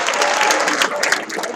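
Sustained applause from an audience at a high school athletic awards night, steady and dense clapping filling the room throughout.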